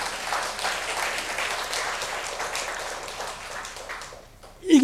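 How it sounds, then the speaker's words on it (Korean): A church congregation applauds during a sermon, producing a dense, even patter of many hands that holds steady for several seconds before fading. A brief voice is heard as it ends. "이 은혜가 감사하면 하나님께 영광의 박수를 돌리시기 바랍니다."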